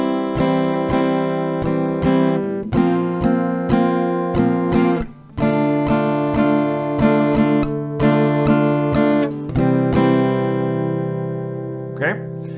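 Acoustic guitar strumming the pre-chorus chords of a song at a slowed pace, steady down-strokes ringing close and full, with a brief pause midway and a squeak of fingers sliding on strings near the end.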